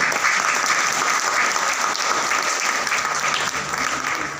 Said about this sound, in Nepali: एकपल्ट जोरदार ताली आफ्नो लागि